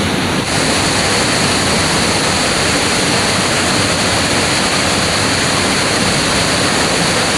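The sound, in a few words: rushing waterfall at Curug Leuwi Hejo, Sentul Bogor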